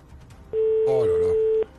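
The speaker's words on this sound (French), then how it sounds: "Deuxième sonnerie." Telephone ringing on an outgoing call, a single steady ring tone lasting about a second, with a voice talking briefly over the middle of it.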